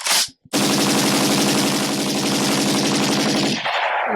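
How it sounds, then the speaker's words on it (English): Rapid sustained machine gun fire, a loud continuous burst of dense gunshots lasting about three seconds after a brief short shot, then cutting off. "Give us some gunshots too."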